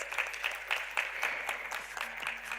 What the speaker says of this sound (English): Can we please welcome him with a big round of applause?